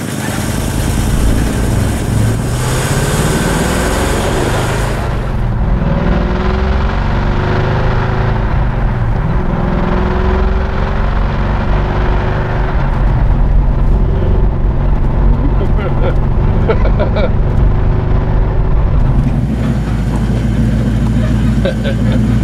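A 1970 Ford Torino Cobra with a 429 Cobra Jet V8 and four-speed manual rumbles loudly up close as it pulls away, its deep engine note rising and shifting through gears, with people talking over it.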